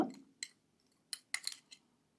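Herbal powders are stirred into oil in a bottle, giving a few sharp, faint clinks and taps spaced irregularly across near silence.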